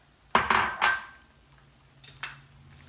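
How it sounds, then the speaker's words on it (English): Medium-sized cauliflower florets tumble into a pan for a vegetarian curry, giving three sharp clattering hits close by, then a couple of softer rattles as the pieces settle. "So I'm going to go ahead and add the cauliflower."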